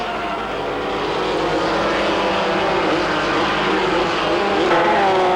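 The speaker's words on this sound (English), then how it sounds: "No one can accuse Formula 3 racing of being boring." Formula 3 racing cars at Silverstone in 1986, a loud continuous engine roar of several cars passing close together, rising slightly in pitch toward the end.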